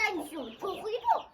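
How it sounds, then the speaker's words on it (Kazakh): Chickens cluck and call in a short, close burst, with a brief higher squawk near the end, at a rural village home with sheep. "Мына тауықтар бар екен ғой?"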